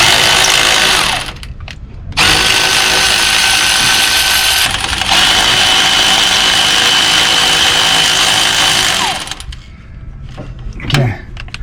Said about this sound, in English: I got a Milwaukee ratchet that's kind of extremely helpful